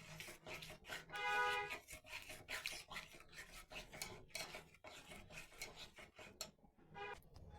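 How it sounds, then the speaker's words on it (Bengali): Milk cream being stirred in a wok to render ghee gives repeated scraping, rasping strokes of a spatula against the pan, loud and close in an uneven rhythm with no talking. "নাড়তে থাকবো, ঘি উঠাবো।"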